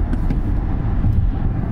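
An Audi e-tron electric car on the move produces a steady, loud low rumble of road and wind noise from inside the cabin, without pause.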